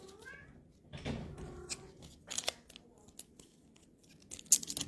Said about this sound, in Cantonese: 有隻貓貓叫